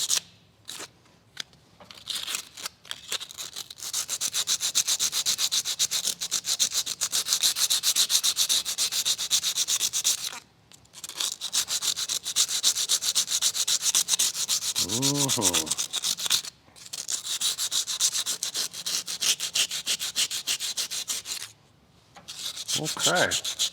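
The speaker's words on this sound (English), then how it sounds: "get in here with some 80 grit and knock that kind of high spot of rust down" Steady, scratchy hand sanding with 80-grit sandpaper on rusty metal of a 2016 Chevrolet Suburban's rear disc brake, in long continuous stretches, broken by a few brief pauses and a short tonal squeak midway.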